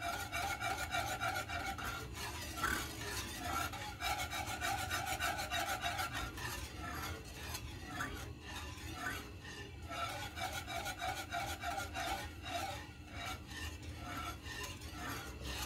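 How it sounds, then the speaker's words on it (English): Custard for an English trifle stirred continuously in a pan, a steady rhythmic rasping scrape of the utensil across the bottom, close up with no talk. "So we want to keep stirring to ensure that we don't get any lumps in this."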